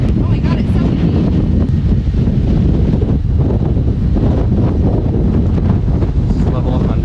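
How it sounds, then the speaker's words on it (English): Strong wind buffeting the microphone on a hike through a windy gap, loud continuous low rumbling roar with gusty fluctuations throughout. "There's a wind tunnel here. Oh my god, it's so windy."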